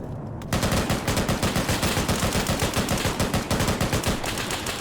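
Gunshots in a video game burst into a sustained automatic volley after a quiet half-second opening, rapid evenly spaced cracks continuing loudly and steadily to the end.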